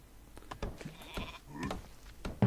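Sheep in the video game Northgard bleat a few times in quick succession over about two seconds, fairly close and clear, with light background noise.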